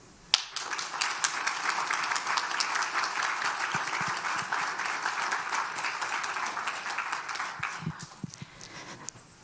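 Sustained applause from a large crowd at an adult basic education graduation ceremony, dense steady clapping that swells quickly, holds for several seconds, then thins out toward the end.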